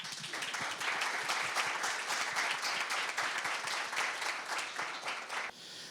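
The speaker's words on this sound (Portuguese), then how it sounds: "a quem eu peço uma salva de palmas" Audience applause fills a public talk on Brazil's future and the Federal District, a steady dense roar of clapping that holds strong for several seconds before dropping off abruptly near the end.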